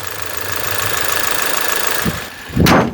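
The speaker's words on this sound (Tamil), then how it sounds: "இதோட இன்ஜின் நாய்ஸுமே ஆக்சுவலாக வந்து நீங்கள் கேட்க முடியும்." Under the open bonnet, a Toyota Hycross engine idles with a steady, even hum and faint knock, broken near the end by a short, louder thump.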